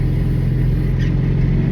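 A 2023 Kubota RTV X-1100C utility vehicle coasts down on its hydrostatic drive with the throttle released, a loud steady low engine drone and rumble heard up close without speech.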